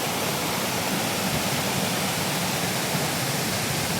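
Chandranagar waterfall roars as a dense, unbroken rush of water, loud and close, with no voices over the steady wash.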